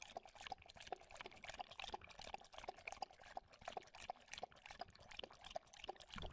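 Water trickles and splashes softly as it is poured out for a thirsty dog, in a quiet, uneven run of small droplet sounds.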